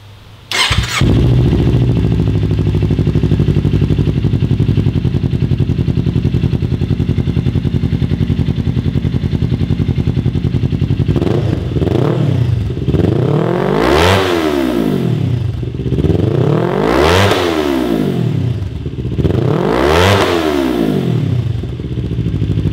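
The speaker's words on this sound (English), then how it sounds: "The first note you're going to hear is going to be without the sound insert" Kawasaki Ninja 400 motorcycle fitted with an Akrapovic full exhaust and carbon can, run without the sound insert: a brief start, then steady idle, followed by three loud, repeated throttle blips rising and falling in pitch, close and alone.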